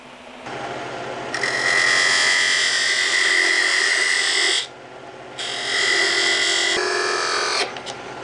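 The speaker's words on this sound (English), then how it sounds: "Now, last step, part it off." A lathe parts off a turned steel stop collar. The whine is loud and sustained, with a harsh ratcheting chatter that cuts out briefly near the middle and then resumes before stopping.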